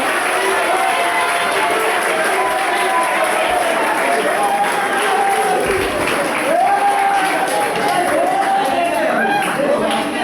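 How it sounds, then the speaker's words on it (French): A large audience at a school cultural day cheers and applauds in a continuous loud wash of clapping and shouting, with excited voices calling out over the crowd throughout. "Vos acclamations"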